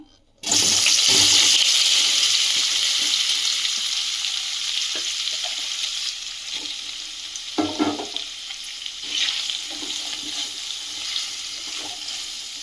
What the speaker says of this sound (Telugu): అదే ఆయిల్లో పన్నీర్ వేపుకుందాం